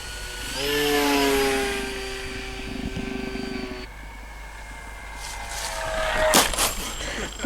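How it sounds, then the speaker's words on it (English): Scratch-built RC Messerschmitt Bf 109 model plane coming in to land, its small engine whining loud and steady with pitch shifts, fading somewhat midway, then a rise with brief clatter near the end; faint voices in the background. "I'll bring it in for landing now."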